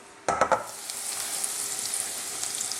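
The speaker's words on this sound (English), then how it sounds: "our garlic is not burning, but is gently cooking" Garlic gently cooking in hot oil, a soft steady sizzle that holds throughout after a few louder clatters and sputters at the start.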